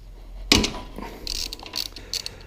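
A tight sump drain bung is loosened on a Honda GX340 generator: a sharp crack as it breaks free, then several quick ratcheting clicks from a wrench, close and fairly quiet.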